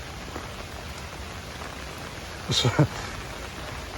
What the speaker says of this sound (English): rain has not stopped. Rain still continues.